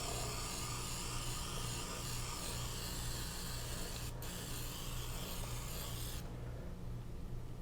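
A soft, continuous hiss of an oil spritzer spraying extra virgin olive oil, close by and fairly quiet, stopping abruptly near the end.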